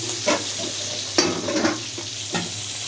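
Onion frying in a pan, a continuous bright sizzle with several sharp stirring scrapes and bursts spaced across the clip, close and fairly loud.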